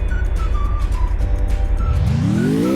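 Video game car engine droning loudly and steadily, with a rising rev sweep near the end as the vehicle accelerates; no speech.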